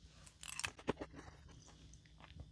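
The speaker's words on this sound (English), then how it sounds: "Let's try out our chewing gum" Spearmint chewing gum from a Danish 24-hour MRE being chewed close to the microphone, soft wet smacking and a few crunchy bites in an uneven rhythm, quiet and with no talking.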